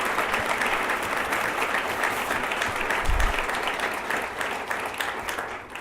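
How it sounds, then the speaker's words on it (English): A round of applause from an audience after speeches at an evening women's event, a full, steady crowd clapping that carries on for several seconds and eases slightly toward the end. "Give them all another wonderful round of applause."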